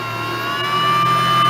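A car engine revs upward toward 6,000 RPM during device testing, a steady rising harmonic drone that grows slightly louder over a short stretch, with no voices.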